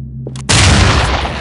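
A breaching charge detonates in the tactical shooter SWAT 4 with the Elite Force mod: a short click and a faint metallic tick come first, then a sudden loud, heavy boom rolls on to the end.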